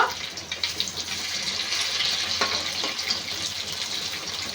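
Flattened rice (chira) snack deep-fries in hot oil as its second side cooks, a close, steady, bubbling hiss with no talk.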